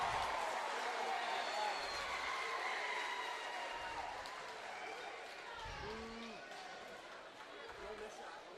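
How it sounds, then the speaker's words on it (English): A home crowd at a varsity high school basketball game cheers and applauds steadily after a play, a dense roar with squeaks and shouts, fading slightly toward the end. "Sibley crowd really into it now after that."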